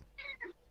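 Short domestic cat meow, two quick rising-falling notes, close and soft, with no talk over it.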